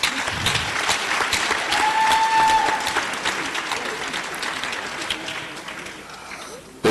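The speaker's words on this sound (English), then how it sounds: "Shall we give a resounding round of applause to Dr. M.M. Omokaro?" An audience at an anniversary and birthday celebration breaks into loud, sustained applause that swells early, then gradually thins out over several seconds, with crowd murmur and a faint voice mixed in.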